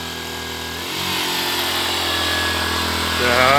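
Zipper 1100 power generator engine running, then winding down as revs drop; a steady mechanical drone shifts pitch partway through, with a brief spoken word over it.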